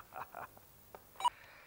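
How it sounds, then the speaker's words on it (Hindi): Short electronic phone tones in a Hindi TV serial scene, a few quick separated beeps like a call being dialed or coming in, faint and brief. "लो, हीना का ही फोन होगा।"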